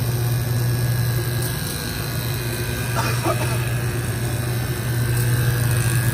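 An AgrOZONE ozone generator used for bulb storage hums loudly and steadily as its sample pump runs and air is pushed out of the outlets, giving a constant low drone with a few faint clicks.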